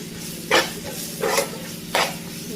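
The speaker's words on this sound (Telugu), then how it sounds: "మిక్సీలో కొట్టాను కదా, ఆ పేస్ట్ వేస్తున్నానండి" Ground onion paste going into a pan for an eggplant yogurt chutney, with three short scraping bursts about a second apart over a faint background sizzle, close and fairly quiet.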